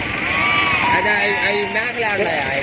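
Goats at a village livestock market in Gudur bleat repeatedly, wavering cries close by over market chatter and voices.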